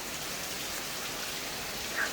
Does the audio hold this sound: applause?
no